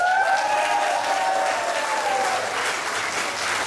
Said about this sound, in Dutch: daarvoor sowieso een nog veel harder applaus